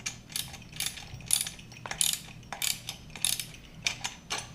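A crescent wrench works a bolt on a bucket assembly, giving a quick series of close metallic ratcheting clicks in short regular bursts, fairly quiet and with no talk.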